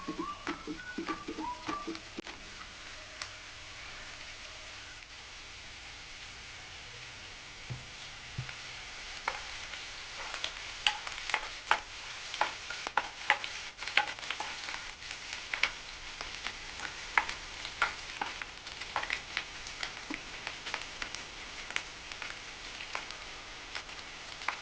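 Onion frying with ginger garlic paste in a pan, a faint steady sizzle broken by scattered clicks and scrapes from stirring, close and quiet.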